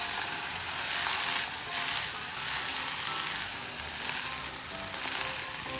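Egg spread thin in a hot pan sizzles steadily as it cooks for a Chinese cold noodle dish, a close, continuous crackle with gentle swells and no talking.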